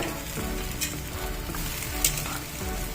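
Small pieces of chicken, 1.5 kilos in all, hit a hot pan with salt for Goan chicken vindaloo, giving a steady loud sizzle with a few stirring scrapes on top.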